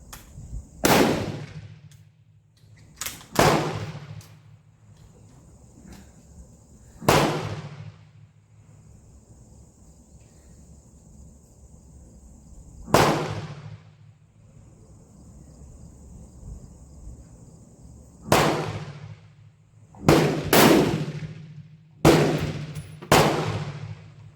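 Rifle shots from a Madsen M47 firing reloaded 165 gn SST rounds crack out sharply about nine times at uneven intervals, some in quick pairs, each one loud and close with a short decaying echo over a quiet outdoor background and no talking.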